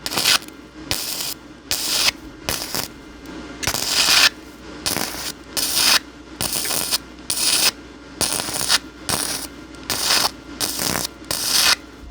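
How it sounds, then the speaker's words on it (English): A Vevor MIG 130 welder lays short bursts on thin metal, giving loud, crackling, sizzling arcs that start and stop in a quick repeating rhythm with brief pauses between. "Let's weld some thin metal."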